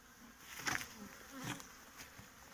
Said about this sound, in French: La ruche, il est blindé d'abeilles.